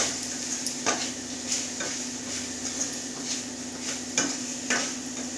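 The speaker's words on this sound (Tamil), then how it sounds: "இப்போ அதை நல்லா கிளறி விட்டுக்கலாம்" Cluster bean stir-fry with chili powder being stirred in a pan: a steady sizzle runs throughout while the spoon scrapes and clinks against the metal at irregular intervals, close and moderately loud.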